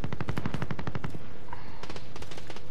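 Rapid automatic gunfire from a weapon in Call of Duty: Black Ops Cold War on Rebirth Island, fired in two close, loud bursts with a brief pause between them.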